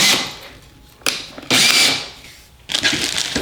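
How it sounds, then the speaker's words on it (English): Power drill bursts in short whirring runs while boring a hole for an antenna bracket on a snowmobile, with three distinct high-pitched drilling spells separated by pauses. "And then we need to drill a hole"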